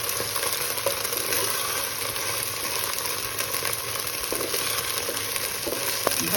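Spice masala with dried chilli powder fries in a pan with a constant close sizzle and faint stirring clicks and scrapes, steady throughout with no talking.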